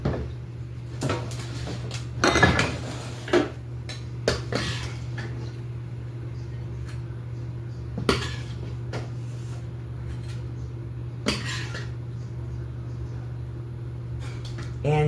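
Dishes clink in a home kitchen as soup is ladled onto a plate beside shrimp scampi on bread. Scattered sharp knocks and clatters sound over a low steady hum, with occasional talking.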